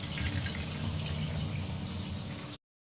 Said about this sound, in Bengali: এখন আমি ফুলকপিটা ধুয়ে নেব ভালো করে 2-3 বার